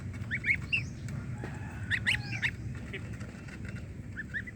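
Goslings or geese in a backyard pen calling in short, repeated honking and clucking bursts over a steady low background rumble, with several birds heard at moderate distance.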